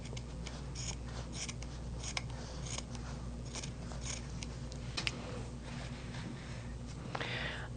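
Scissors with a slight burr snipping quilt fabric for a Christmas tree quilt car block: a run of soft, close, irregular cuts and rustles over a steady low hum, with no talking.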